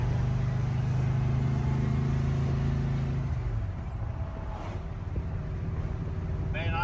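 A 1960s truck engine runs loud and close, its steady mid-pitched drone shifting as it is taken through its gears, with one clear change in tone partway through and people talking over it.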